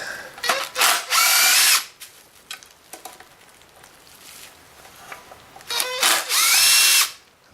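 Power drill unscrewing bottom bolts from a very dirty Kirby vacuum cleaner, two loud whirring bursts at the start and end with quieter clicks and handling between, alone without talk.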